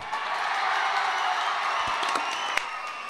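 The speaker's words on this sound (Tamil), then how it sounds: "கைதட்டுறதுக்காக இல்ல தம்பி, கைதட்டுறதுக்காக இல்ல" Crowd of listeners at a motivational speech breaking into steady, broad applause with scattered cheers, a dense wash of clapping that holds evenly throughout.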